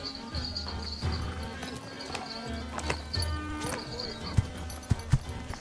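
Hooves of a relay messenger's horse in the medieval strategy game Age of Empires 4, a steady clip-clop of trotting that runs throughout with a few sharper knocks near the end, heard fairly close with background ambience.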